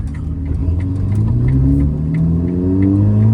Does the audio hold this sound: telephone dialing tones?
no